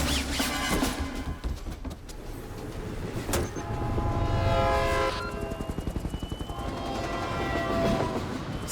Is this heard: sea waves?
no